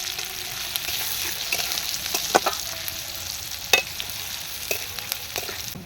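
Chopped onion, chili, ginger and garlic frying in a pan for chicken chowmein, a steady close sizzle broken by a few sharp clinks and scrapes of a spatula, with no one talking.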